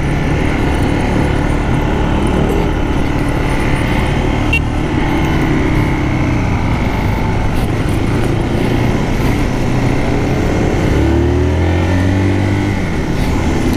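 A Zontes R 350 motorcycle accelerating on a test ride at a launch event, its engine a loud, steady drone with rising pitch and heavy wind rush throughout, close to the rider.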